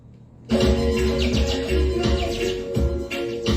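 Birds chirp and call continuously and loudly over a steady hum, starting abruptly after a brief quiet moment, during a Mother's Day show in Ladyville.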